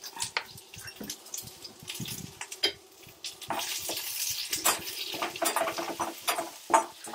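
Small onions fry in oil in a pan for masala brinjal curry, a close sizzle broken by irregular stirring clatter and spattering pops.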